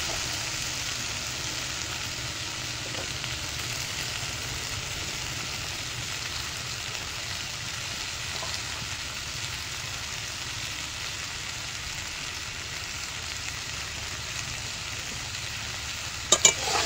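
Salt and turmeric going into a pan of frying food with steady stirring, a continuous soft sizzle and scrape throughout, ending with a few sharper knocks near the end.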